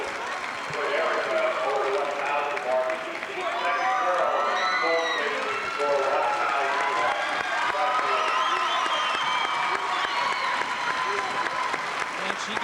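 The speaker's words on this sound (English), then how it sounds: "The opposing players, the opposing fans are standing and clapping" A basketball crowd at a 1992 girls' state tournament quarter-final game, opposing players and fans included, stands and applauds a player for reaching 1,000 points, with sustained loud clapping and cheering under steady talk.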